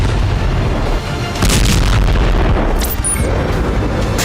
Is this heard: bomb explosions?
yes